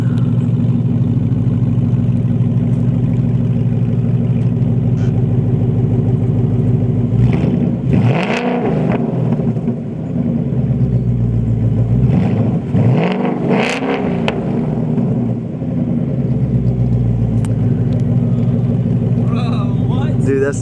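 A 2019 Mustang GT with a loud new aftermarket exhaust rumbles at idle, then blips up in a few short revs midway before settling back to a deep steady burble, close by.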